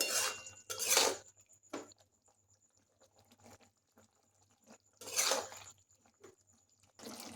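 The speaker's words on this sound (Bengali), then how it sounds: "এটা এখন খুব ভালো করে একবার নেড়ে দিতে হবে, যাতে তরকারিটা একটু মাখো মাখো হয়ে যায়" A spoon stirs a raw banana and potato curry in a pan, giving a few scraping, clattering bursts separated by quiet gaps, fairly soft and close.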